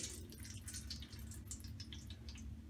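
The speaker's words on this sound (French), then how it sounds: "Maintenant, c'est au tour d'égoutter le paquet donc, de jus de pelure d'oignon rouge plus bicarbonate." Red onion skin dye mixed with baking soda drains from a soaked bundle, a faint close trickle with scattered small drips over a low background hum.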